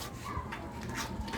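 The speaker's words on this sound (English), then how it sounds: "These are all my birds at home." Pet pigeons kept at home, including a Modena pigeon, give soft, faint coos against a low background murmur.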